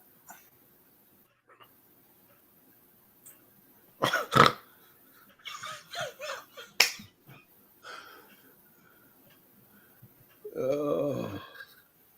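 A dog under attack by a kangaroo gives short barks and rough growls in scattered bursts, with quiet gaps between them and a longer snarling burst near the end.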